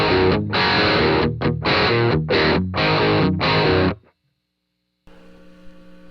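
Dry electric guitar through a small Peavey Rage 258 amp, a string of loud strummed chords with brief gaps, then a short silence and a faint buzzing tail.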